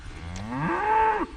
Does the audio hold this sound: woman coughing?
no